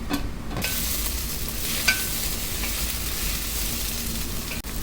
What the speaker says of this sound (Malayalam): അടിയിൽ പിടിക്കാതെ നമുക്ക് ഇടയ്ക്കിടയ്ക്ക് ഒന്ന് ഇളക്കി കൊടുക്കാം